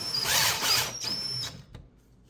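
A cordless power drill drives a screw to mount an accessory hook, whirring loudly in two short bursts under load before stopping, followed by a faint click.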